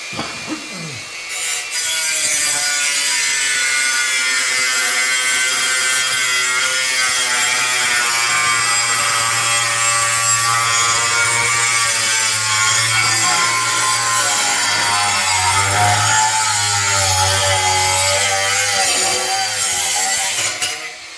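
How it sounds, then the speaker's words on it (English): An extra piece of a lawn mower deflector being cut off, a loud continuous grinding, rasping cut held steadily for about twenty seconds close up, with no talking. "Now let's just cut this extra piece off."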